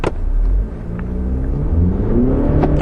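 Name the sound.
Audi Q3 accelerating from standstill on icy ground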